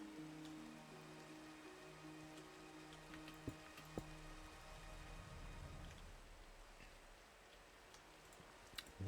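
Soft, steady rain falls in Minecraft with scattered light ticks of drops, while low sustained tones hum faintly in the first half.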